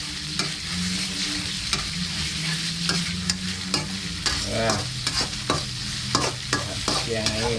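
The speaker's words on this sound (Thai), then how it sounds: "ผัดพริกแงให้หอมก่อนครับ" Red curry paste stir-fried in a pan for a crispy pork and long-bean dish: a steady sizzle under rhythmic metal scraping and clinking stirs, close up and continuous, with no voices.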